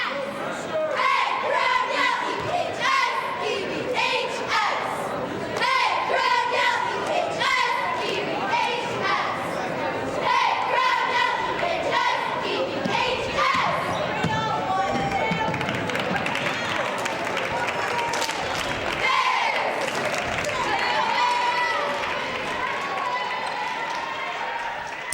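Varsity high school cheerleaders perform a cheer at a boys basketball game, loud rhythmic shouted chanting over a busy gym crowd, with continuous talk and noise throughout.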